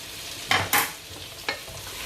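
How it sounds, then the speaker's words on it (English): A spoon stirring chicken curry with curry powder as it fries in a pan, giving three short scraping strokes, two close together and one a moment later, over a faint background sizzle. "and I'm going to stir again."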